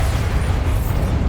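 A Bombarda explosion spell goes off in Hogwarts Legacy, a dense, rumbling blast that fills the whole moment with sustained low boom and crackle, close and loud, with no speech.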